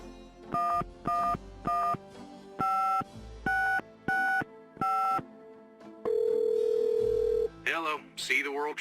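In the Gabriel Knight: Sins of the Fathers 20th Anniversary Edition game, a telephone is dialed with eight quick touch-tone beeps in an uneven rhythm, followed by one long ring tone, then a voice begins speaking.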